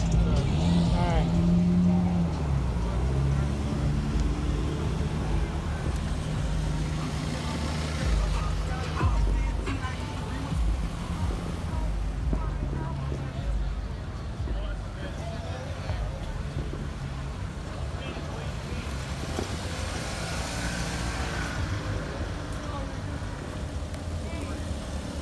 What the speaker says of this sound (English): Here's just the sample of the traffic jam after the fireworks, July 4th, 2019.